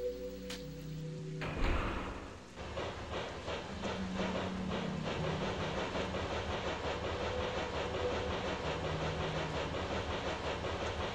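A train runs steadily in a video game, a continuous rumbling clatter of wheels that starts after a brief electronic tone and then holds at an even level, with no talk.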